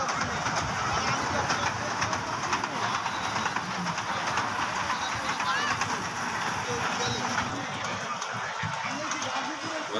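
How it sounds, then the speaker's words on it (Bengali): A children's toy train runs at a crowded cottage-industry trade fair in Gazipur, giving a continuous rolling rumble with faint clatter. It blends with the fairground crowd, and people can be heard talking nearby. "আর এখানে ট্রেন চলছে,"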